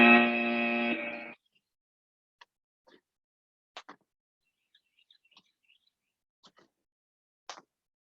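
A workout interval timer buzzer sounds once, a loud flat electronic tone lasting about a second, followed by near silence with a few faint clicks and thuds.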